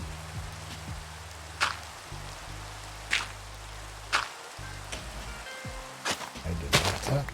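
Minecraft rain falling at night, a soft, steady hiss held under low droning tones, broken by a few sharp cracks and taps that stand out above the wash.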